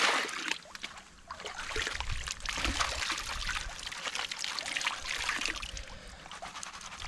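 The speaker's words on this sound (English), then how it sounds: "I'm just going to let that water take the top bit off." Creek water washes over gravel during gold panning in Bendigo Creek, a steady, rushing trickle and slosh that continues throughout at close range.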